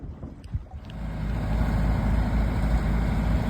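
A sailboat motoring under engine power gives a steady, low diesel drone that builds after a second of softer wind and water noise, then holds even and moderately loud to the end.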